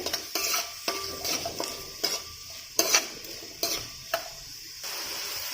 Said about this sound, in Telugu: ఇవి బాగా వేగాలి